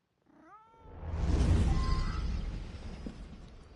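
A pet cat gives a short rising meow close by, then a loud rumbling roar of explosions from the Assassin's Creed Unity game swells up and drowns out everything for the rest of the clip.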